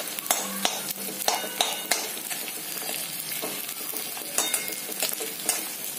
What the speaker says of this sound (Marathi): आता आपला हा डिंक आपण तुपामध्ये फुलेपर्यंत छान असं तळून घेणार आहोत।